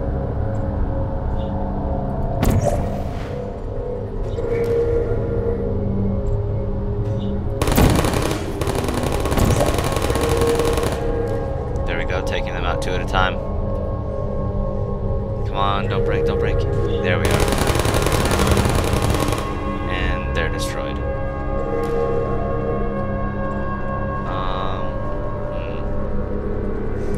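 Turret gunfire in the video game Portal, two long rapid bursts of machine-gun-like rattling over a steady humming background, loud and close, with scattered shorter clicks and shots between them.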